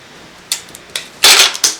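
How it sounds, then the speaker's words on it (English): Tape rips off a roll in a few short, sharp tearing bursts, the longest a rasping pull near the end, crisp and close in a quiet room during a magazine bowl craft. "I'm going to take a piece of that tape."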